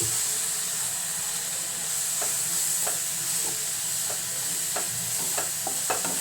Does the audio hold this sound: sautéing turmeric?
yes